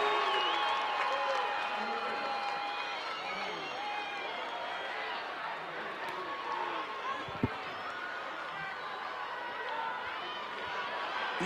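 A festival crowd at the National Chamamé Festival in Corrientes applauds and cheers to welcome a musician, a broad steady wash of clapping with a few shouts, heard from within the audience and continuing for the whole stretch.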